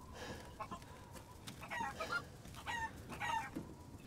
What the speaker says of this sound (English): Oh, I hear some chickens.